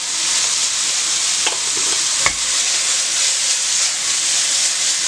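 Meat frying in a pan with black pepper for a Mexican burrito, stirred steadily, giving a continuous close sizzling hiss with a couple of brief scraping clicks.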